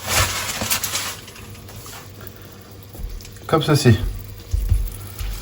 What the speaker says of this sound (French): On va mettre un petit filet d'huile d'olive. Et là, on va y mettre nos burgers pour les faire dorer